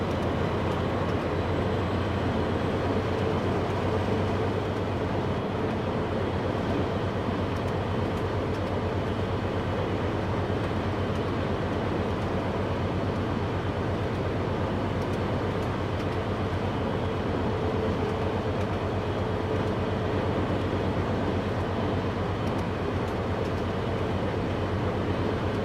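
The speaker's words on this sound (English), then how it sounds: "This is the train to East Point." A commuter train bound for East Point runs steadily, a continuous low rumble and hum of rolling wheels and motors with no breaks and no voices.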